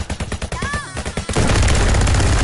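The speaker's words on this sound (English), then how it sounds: "Who's shooting me?" Gunfire bursts out in a shooting video game, a rapid, loud, sustained stream of shots that cuts in after a stretch of rhythmic game sounds and continues to the end.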